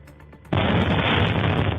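A missile explosion strikes the upper floors of a residential apartment building, a sudden loud broadband blast that bursts in after a quieter rumble and holds as a dense roaring wash.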